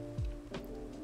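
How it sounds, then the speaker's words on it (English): Rain pours steadily in Minecraft with a shader pack, a soft hiss of falling drops beneath sustained tonal background music, with a brief descending swoosh near the start. "And you can see the rain will start to pour."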